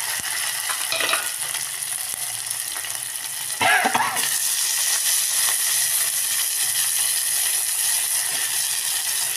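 Onion, chili and potatoes frying in oil in a pan, with a loud, steady hiss and sizzle that swells after a brief stirring clatter and carries on close up, with no talking.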